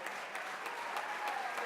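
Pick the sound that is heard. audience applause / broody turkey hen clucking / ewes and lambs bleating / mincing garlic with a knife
audience applause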